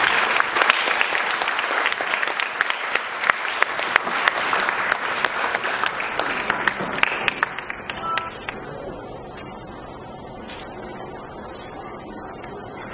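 Loud, sustained audience applause at a children's charity centenary celebration in Nigeria, dense clapping from a crowd that thins out and fades to scattered claps and quiet room noise.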